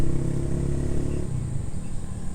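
Road traffic on a nearby highway around eight in the morning, with motorcycles and cars rumbling past in a steady, continuous low drone and no speech.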